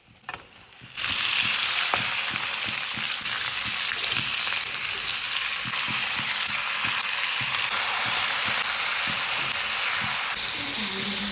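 Goat meat frying in a pan with onion, garlic and turmeric, a steady loud sizzle running throughout with frequent short stirring clicks and scrapes.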